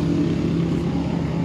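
A Koso-tuned motorcycle engine, fitted with an oil cooler, runs steadily at close range with a dense, continuous low hum and no voices over it.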